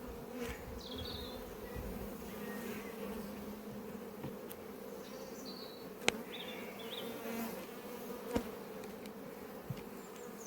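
Honey bees buzzing around an apiary among buttercups, a steady low droning hum with individual bees passing close by, soft outdoor background and a couple of brief knocks.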